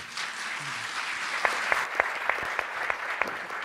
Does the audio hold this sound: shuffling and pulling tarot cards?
no